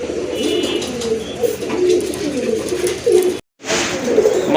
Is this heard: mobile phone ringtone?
no